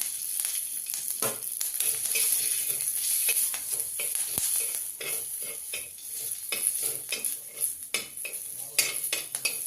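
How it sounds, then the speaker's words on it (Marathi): Green chillies roasting on a hot iron griddle, sizzling steadily with repeated scraping and turning clinks, close and fairly loud with no talking. "हिरवी मिरची भाजून झाली"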